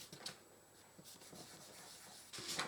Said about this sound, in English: Making sure we have a good burnish on that one.